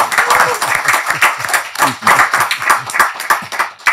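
An audience claps and applauds at an Indonesian talk show, a dense, steady burst of hand claps held throughout, with a voice faintly mixed in.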